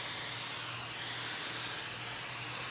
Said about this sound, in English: while I'm spraying this, I'm also pumping to make sure that we kind of keep a nice consistent spray